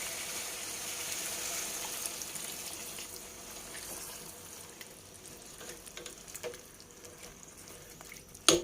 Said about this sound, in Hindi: उसके बाद मैं आधा गिलास पानी डालती हूँ।